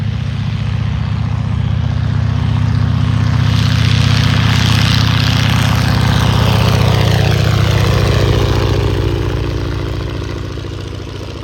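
A PT-17 biplane's radial engine roars with the throttle up at an aviation weekend, a loud, steady droning rumble that swells as the aircraft passes close and then slowly eases off as it moves away.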